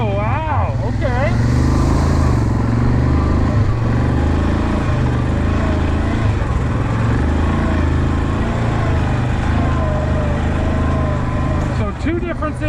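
A 2021 Yamaha Kodiak 700 ATV engine drones loud and steady while riding, a close, continuous low rumble as the throttle opens, easing off briefly near the end.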